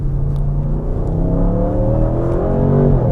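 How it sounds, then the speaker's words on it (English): A deep Audi RS6 V8 engine revs up steadily, its rumbling pitch rising continuously and loud throughout. "we can hear the V8"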